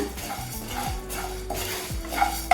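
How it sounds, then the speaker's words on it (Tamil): Ingredients for drumstick leaf powder are dry roasted in a pan without oil, giving a soft rustling hiss with a few light scrapes and clinks as a spoon turns them, close and fairly quiet. "எல்லாமே ட்ரை ரோஸ்டாக தான் வறுக்க போகிறோம்."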